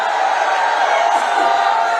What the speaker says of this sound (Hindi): मनोज कुमार जी के लिए जोर से ताली बजाओ जरा।